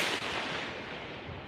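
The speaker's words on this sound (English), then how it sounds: "At this point, I think it's all firecrackers" Firecrackers going off outdoors on Chinese New Year's Eve in China, a sharp distant crack at the start followed by a dense, faint, continuous crackle and rumble of bangs, with no voices.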